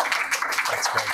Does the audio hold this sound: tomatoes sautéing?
no